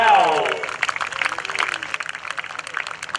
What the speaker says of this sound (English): How about a big round of applause for Greg Connell, the Pitts Model 12.